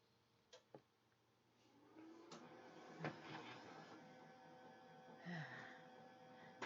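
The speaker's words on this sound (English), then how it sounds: "Okay, let me send the design to the printer." A laser printer running a white toner clear transfer sheet fed from its lower drawer, starting with a few clicks, then a steady mechanical whir and hum with intermittent clunks and rattles, fairly quiet and close.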